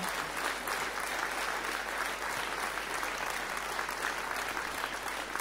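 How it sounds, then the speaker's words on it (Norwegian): A concert audience at a Norwegian brass band's centenary jubilee applauds an honoured longtime member, steady even clapping throughout at moderate level. "Skal vi klappe for det?"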